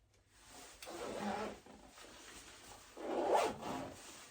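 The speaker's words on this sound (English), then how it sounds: "I usually pull it up slightly in order to zip it." A zipper is drawn up on a tight jacket in two short, scratchy pulls about two seconds apart, close and fairly quiet.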